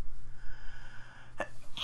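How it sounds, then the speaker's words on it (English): A single short, quiet sneeze bursts out near the end, close to the microphone, over low game engine hum during a Need for Speed: ProStreet highway drive. "Excuse me, I just had to sneeze a little bit."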